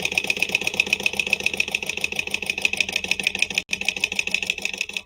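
A sewing machine stitches vinyl for a lunch box, its needle hammering in a fast, even mechanical rhythm with a constant motor whine, close and loud, with one brief stop near the end.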